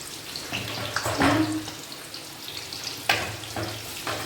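Onions frying in a pan in a home kitchen, a soft sizzle with a few louder crackling bursts and clinks, fairly quiet and steady.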